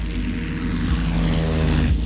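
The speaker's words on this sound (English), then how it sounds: "The XF-5U is powered by two powerful Pratt & Whitney twin Wasp engines." The XF-5U aircraft with twin Pratt & Whitney Twin Wasp propeller engines gives a steady, droning propeller hum with a low throb, continuous and fairly loud throughout.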